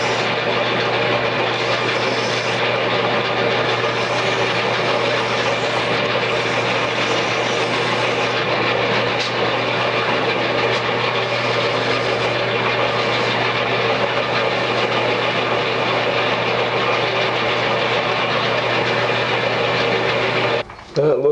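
A maple box spinning on a wood lathe while sanded with 800-grit paper, a steady loud motor hum with a constant tonal whine and a soft abrasive hiss throughout, cutting off at the end.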